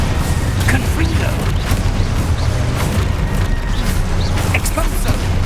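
Booming, rumbling fire-spell blasts in the video game Hogwarts Legacy, loud and continuous, with a dense mechanical, crackling battle din and short bright bursts throughout.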